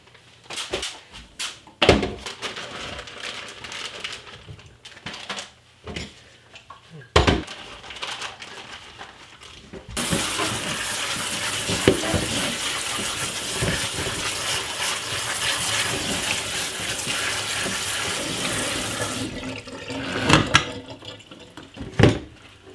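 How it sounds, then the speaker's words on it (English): Frozen green beans rinsed in a kitchen sink under a running tap: a steady, loud gush of water for about ten seconds, framed by clattering handling noises of bags and dishes before and after. "So I'm going to get them rinsed off."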